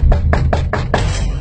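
Five firm knocks on a door land in an even rhythm, close and loud, the last one slightly heavier.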